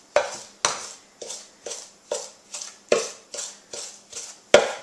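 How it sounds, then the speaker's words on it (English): Butter mashed with cinnamon and sugar against the wall of a bowl, a steady run of about ten rhythmic scraping clunks of a utensil against the bowl, close and fairly loud, with no talking. "And I do this by mashing the butter against the wall of the bowls and getting the cinnamon and sugar mixed in there"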